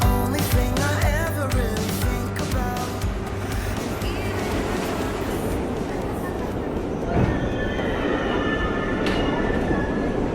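A Queens-bound local subway train running through New York, with a steady loud rumble and rattling wheel noise throughout, sharper squeals and clanks early on, and a voice briefly heard.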